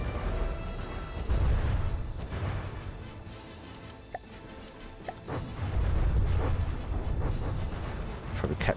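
Booming railgun and artillery fire from a naval combat game, From the Depths, rolls through in heavy, repeated blasts with sharp cracks between them, while someone talks over much of it.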